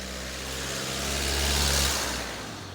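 A passing car swells and fades as its engine and tire noise rise to a peak midway and then recede, heard outdoors over a broad background rush with no talking.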